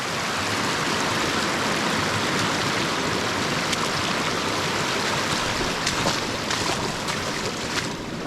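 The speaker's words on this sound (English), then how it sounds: "A little bit of water going down there." A small stream of water flows and trickles steadily, a continuous rushing wash close by with no voices.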